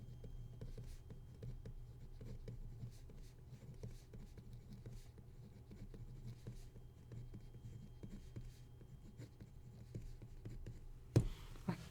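Pen or chalk scratching out notes during a math lecture on real numbers, a steady soft patter of strokes over a low room hum, with a brief louder knock near the end.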